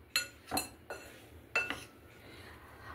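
A spoon mixing crispy corn batter in a bowl, giving a few sharp metallic clinks against the bowl in quick uneven succession, quiet and close.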